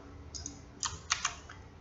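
Several light, crisp keyboard clicks tap out irregularly against a quiet background hum.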